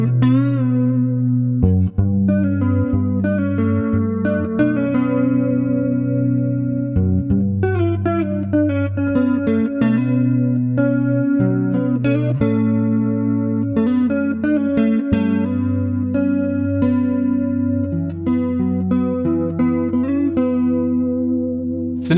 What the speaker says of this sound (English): I really recommend using this with some chorus to get some very familiar guitar tones.